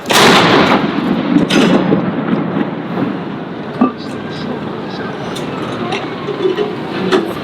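US and UK soldiers fire a cannon in a 21-gun salute at Edinburgh Castle. A loud, booming blast opens the clip and rolls out into a long reverberating rumble, followed by a smaller distant thump and outdoor crowd noise.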